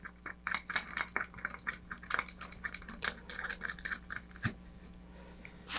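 A nut and washer tightened onto the threaded rod of a model rocket's front engine mount ring produce quick, light metallic clicks and taps in close, irregular bursts, with no talking.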